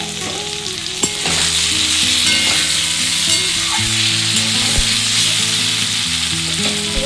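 Potatoes and softened tomato frying in oil in a pan for a light Bengali bata fish curry, a loud continuous sizzle with occasional spoon scrapes and clinks, close and without talk.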